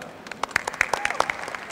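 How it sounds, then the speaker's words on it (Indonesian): Applause from an audience at a youth dialogue event in Bekasi Regency, heard as a brief run of sparse, distinct claps with a faint room hum underneath. "Boleh sekali lagi tepuk tangan untuk kedua pertanyaan sesi pertama kita."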